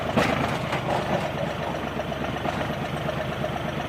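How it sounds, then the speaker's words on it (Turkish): A New Holland T4.60S tractor engine labors steadily at low revs while plowing a muddy field, a continuous moderate rumble with no talk. "Gördüğünüz gibi traktör kayıyor maalesef."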